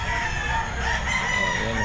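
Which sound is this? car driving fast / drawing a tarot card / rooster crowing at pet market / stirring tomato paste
rooster crowing at pet market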